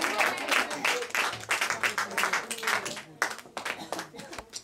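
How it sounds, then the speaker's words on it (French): A church congregation standing and clapping in praise, dense rhythmic applause from many hands close by, continuous for several seconds, with voices mixed in. "Let us stand and clap for the word of the Lord."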